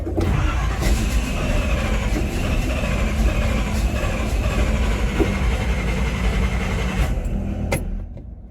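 A long-parked Chevy C20 truck engine is cranked over, a loud continuous churning and rumbling that runs for about seven seconds before dropping away, with a few sharp clicks.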